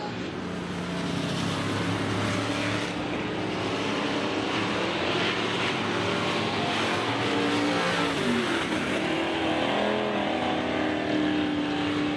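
A race car engine restarting during a caution period roars continuously at close range, a loud sustained drone with shifting pitch as it revs.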